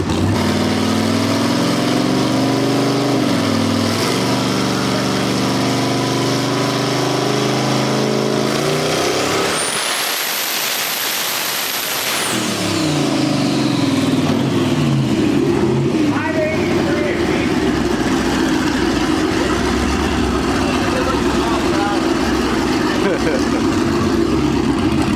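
A twin-turbo Mazda RX-7 roars through a dyno pull, its rotary engine droning loud and steady, then a sharp whooshing burst as revs drop before the engine settles back into a lower rumble.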